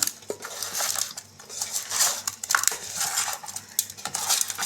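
Fish curry is stirred with curry leaves and oil in a metal pan, giving close, irregular scraping, clinking and squelching as the spoon works through the mixture in uneven bursts.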